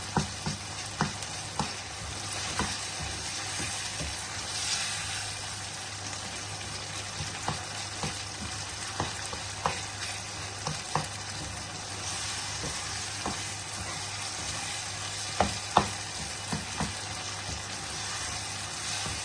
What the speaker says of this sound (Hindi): तो अच्छे तरीके से हमने भुनाई करनी है ताकि इसमें कोई भी टमाटर के पीस जो है वो ना रह जाए